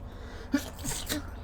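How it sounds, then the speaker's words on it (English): A quick, muffled sneeze with a short sharp inhale before it, close to the microphone over a low steady hum. "Excuse me, I'm going to sneeze here."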